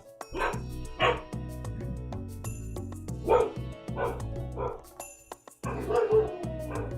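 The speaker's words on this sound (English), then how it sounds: "Now there's 2 dogs barking." Two dogs bark in bursts, sharp yips and bow-wows repeating irregularly at moderate distance, while a person talks over the barking.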